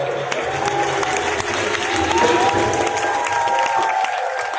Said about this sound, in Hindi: बोलो ताली बजाओ